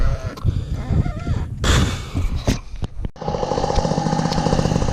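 Polini 51 moped engine running with a rough, loud buzzing drone that sputters and cuts out mid-clip before picking back up into a steady, harmonic-rich idle.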